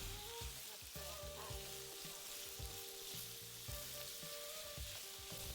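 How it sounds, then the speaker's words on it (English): Pork belly sizzles and crackles steadily in a hot pan, with periodic scraping and clattering as it is stir-fried and tossed. "You're going to stir-fry until it turns nice and golden"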